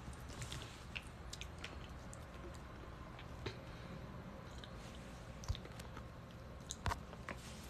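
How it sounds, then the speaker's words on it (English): Chocolate-covered strawberries are bitten and chewed up close, giving a soft, quiet, continuous squishy chewing with a few sharper bites. "I'm eating chocolate covered strawberries."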